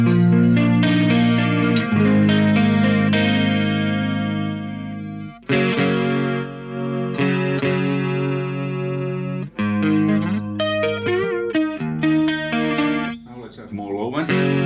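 Clean single-coil electric guitar with a shimmering chorus effect through an ENGL Ravager impulse response, played in an 80s metal style as sustained ringing chords and arpeggios with brief pauses, loud and alone.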